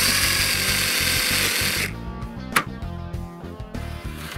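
Power drill boring holes in metal discs for a homemade Wi-Fi antenna, a steady high whine for about two seconds, then stopping, followed by a sharp click and some light clatter.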